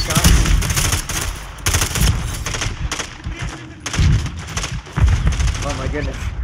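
Rapid bursts of gunfire in a Call of Duty: Modern Warfare III high-rise mission, loud and close, with dense automatic fire mixed with radio-style voices talking.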